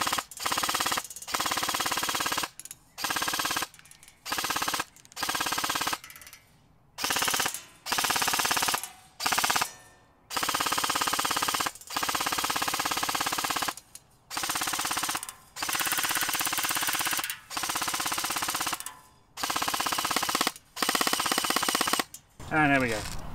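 An airsoft AK rifle fitted with an LCT magazine fires on full automatic in repeated bursts of rapid mechanical rattling, each a few seconds long and separated by short pauses, close and loud.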